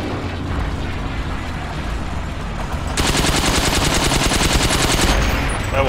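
Machine gun spray fire in the World War II shooter Forgotten Hope 2 erupts halfway in as a loud, sustained rapid burst of shots, following a few seconds of low rumbling battle noise.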